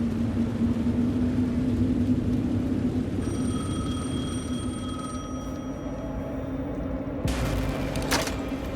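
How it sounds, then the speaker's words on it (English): A telephone rings in a dark horror video game scene, a steady electronic ringing tone heard mid-clip over a loud droning, rumbling ambience, ending with a sharp bang. "The phone again."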